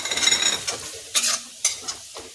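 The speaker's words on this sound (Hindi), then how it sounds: "अब इसमें जो हल्दी थी ये भी डाल देंगे। इसको थोड़ा सा मिक्स करेंगे" Spoon stirring turmeric into frying spices in a pan for dum aloo, soft sizzling under a few distinct scraping strokes and clinks, close and fairly loud with no talking.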